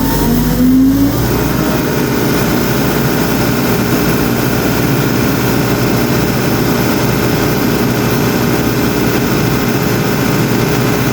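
Diesel engine on a piece of heavy equipment, reportedly a 3.3 Cummins, revving under throttle: a loud, steady, close roar that climbs quickly in the first second and then holds a sustained high drone for the rest.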